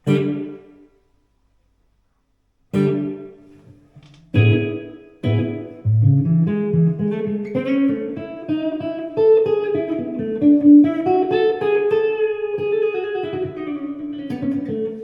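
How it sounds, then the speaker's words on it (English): Electric guitar through a Blackstar HT Club 50 tube amplifier on its 5-watt setting, with reverb: a few struck chords ring out and decay, then a flowing melodic line plays with lingering echoing tails. "Let's have a listen to the reverb."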